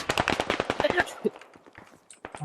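Bursts of enemy gunfire in the military shooter game Squad, sharp rapid cracks over the first second or so, then scattered fainter shots, mixed with someone speaking.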